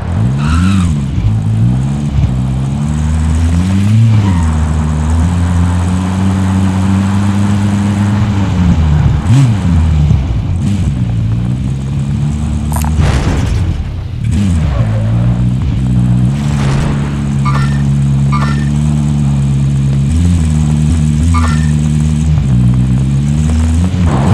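A video game car's engine drones steadily while driving, its pitch rising and falling with the throttle, loud and close, with occasional clicks and bumps over the top.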